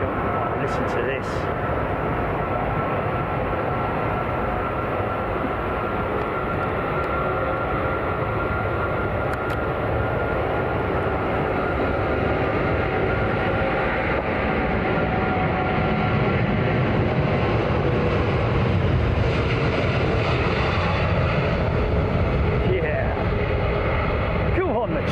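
Rolls-Royce Trent engines of an ANA airliner in special livery roar steadily at Heathrow Airport, a loud, continuous broadband rumble and whine lasting throughout and swelling slightly toward the end, with voices talking over it.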